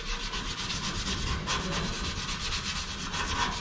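Steady hand sanding across a car body's surface, going back over areas already sanded, with a continuous rhythmic rubbing and scraping close up and no talking.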